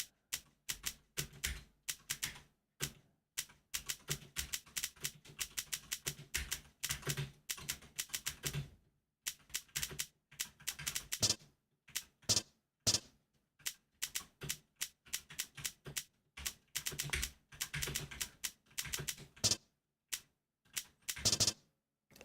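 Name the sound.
typing on a computer keyboard in a typing game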